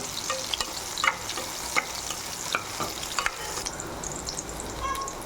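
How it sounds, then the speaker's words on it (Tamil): Plantain pieces fry in hot oil for a crab masala, giving a steady close sizzle broken by light clinks and scrapes of stirring, with no talking. "வாழைக்காய் வந்து இந்த எண்ணெயில் போட்டேன், நல்லா வெந்துருச்சு பாருங்க"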